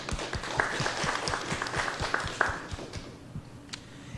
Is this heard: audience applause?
yes